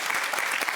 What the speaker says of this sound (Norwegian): Men applaus da!